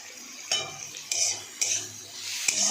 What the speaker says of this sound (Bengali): এটাকে ভালো করে ভেজে নিই। দিয়ে দেবো পরিমাণ মতন লবণ আর একটুখানি হলুদ।